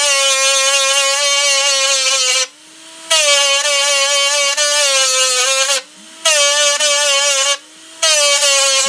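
A rotary power sander smoothing the edges of a small carved wooden egg charm gives off a loud, steady whine up close, breaking off briefly three times before spinning up again.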